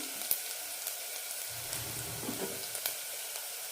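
Chopped onions fry and brown in a hot pan for a potato egg curry, giving a soft, steady sizzle with faint crackles and a few light pops, quiet and close, with no voices.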